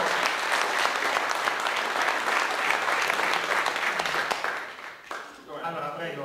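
Steady audience applause fills a political debate hall in the Pavia province, dense and continuous before thinning out near the end as a voice begins to speak.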